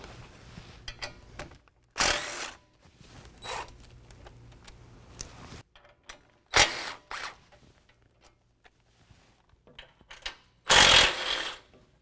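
Short bursts of a power tool or ratchet backing bracket bolts off the frame of a 2015-17 Ford F-150 during a lift kit install, several loud spurts separated by quiet gaps, with no talking.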